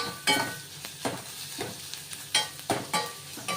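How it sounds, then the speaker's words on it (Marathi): Onion and garlic frying in a pan for a kantoli vegetable dish, stirred with repeated scraping strokes over a soft continuous sizzle, close and alone. "हे आपण हलवून घेऊया, कांदा आणि लसूण"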